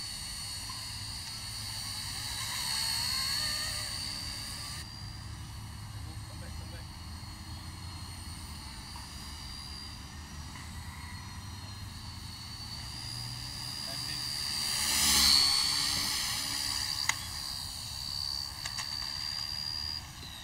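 A toy RC helicopter fitted with a brushless motor flies about, giving a steady high-pitched motor whine with layered tones that swells louder around the middle of the flight and stays present throughout.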